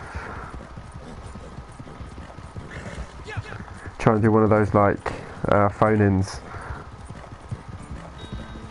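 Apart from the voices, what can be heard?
horse hooves and noises in Red Dead Redemption 2 video game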